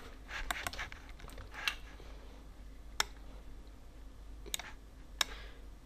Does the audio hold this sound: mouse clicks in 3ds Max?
yes